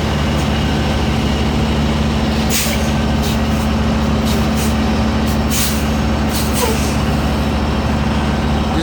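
A truck hauling a trailer reverses, its heavy diesel engine droning steadily and loud up close, with brief hissing air bursts breaking through now and then.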